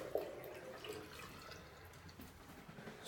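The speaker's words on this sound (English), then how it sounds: "So that looks like a steady stream from the bidet" A bidet runs in a steady, faint stream of water, a soft continuous splashing hiss with one small early spatter, quiet and unbroken by speech.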